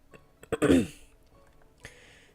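A single gruff throat clearing, short and close, followed a moment later by a softer breathy sound.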